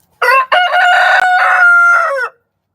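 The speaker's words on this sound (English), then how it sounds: "Y'all heard Jaxson crow like as loud as he can." A Buff Orpington rooster, golden brown, crows once at full volume inside a coop, a long loud close-up call about two seconds with a brief break near the start.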